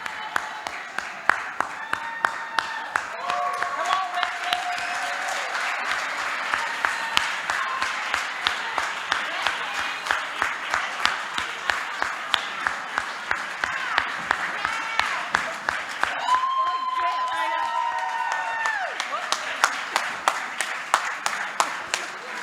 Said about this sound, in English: One more big round of applause for our super sous chefs